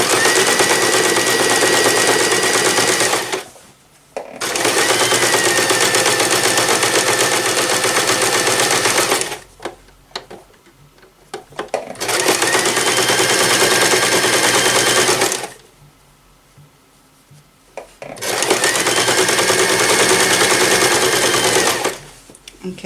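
Sewing machine running in three long bursts of steady top stitching around a drawstring bag with a lining, with short pauses between runs; close and loud, no talk over the stitching.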